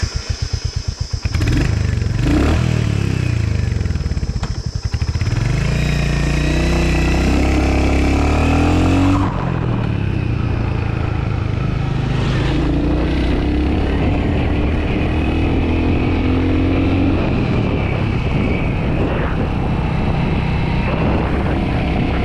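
Royal Enfield Hunter 350 motorcycle, just after its first service, being ridden with a steady loud engine drone that rises and shifts through gear changes, with wind noise throughout and no talking.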